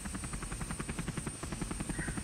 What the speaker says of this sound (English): your chopper doesn't get hit, it just loses its rotor